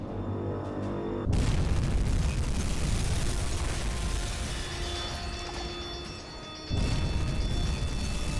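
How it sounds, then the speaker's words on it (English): Torpedo strikes explode against a ship in a U-boat submarine video game, a sudden loud deep blast rolling into a long sustained rumble of burning and wreckage, with a second surge of noise near the end. "2 good shots, 2 good hits with our torpedoes there."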